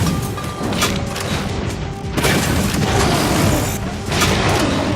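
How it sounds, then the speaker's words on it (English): Repeated heavy booms from an M79 break-action grenade launcher in Shadow Warrior 2, several loud blasts with crashing impacts spaced about a second or two apart over continuous combat noise. "Let's go with the grenade launcher."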